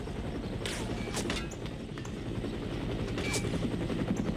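A helicopter's rotor thrums steadily in No One Lives Forever, with bursts of rapid gunfire breaking through now and then in a busy game scene.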